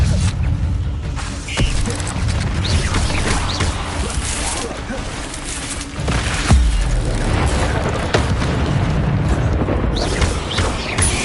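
Incendio fire spell cast in Hogwarts Legacy combat, a loud rushing burst of flame with booming impacts over dense, continuous battle noise.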